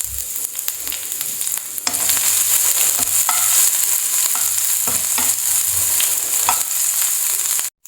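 Crushed ginger, garlic and fennel seeds sizzle steadily in hot oil in a pan, with occasional stirring scrapes and clicks throughout, loud and close.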